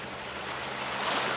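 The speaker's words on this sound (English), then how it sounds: "The water sound is still here, though." Creek water in the Gold Rush mining game flows in a steady, rushing wash of broadband noise that is fairly loud and continuous over a short stretch, with no voices.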